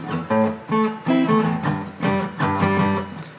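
A guitar plays the slow octave riff of Dave Matthews' 'Belly Belly Nice', with a steady pattern of strummed two-note hits repeating in even rhythm, clear and close with no talking.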